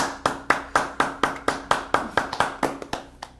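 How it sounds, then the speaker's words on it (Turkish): Clapping from the dinner guests on a Turkish cooking competition show, a steady run of about a dozen crisp, evenly spaced claps. It slows and thins toward the end, close and clear with no talking. "Tebrik anlamında mı alkışladınız?"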